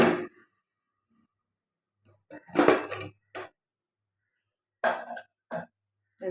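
Metal utensil clinking and scraping against a cooking pot while checking egg rice, a few short clattering bursts separated by quiet gaps, close and fairly loud.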